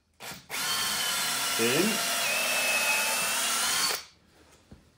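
A power drill bores countersunk recess holes into a thick 76 mm wooden header during garage and workshop siding work; one loud, sustained high whine runs for about four seconds after a short start-up burst, and a brief voice is heard.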